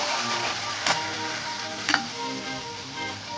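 Finely chopped onions frying in hot oil with popped mustard seeds and cumin, a steady close sizzle broken by two sharp clinks of a spoon against the pan.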